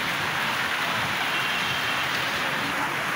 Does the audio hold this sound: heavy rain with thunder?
yes